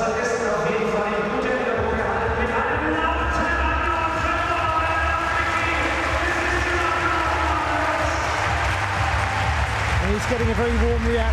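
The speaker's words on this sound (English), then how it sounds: "Getting a very warm reaction from the crowd." A crowd at a university gymnastics event gives warm applause after a routine, a steady dense clapping wash lasting throughout, with music-like tones and a commentator talking over it.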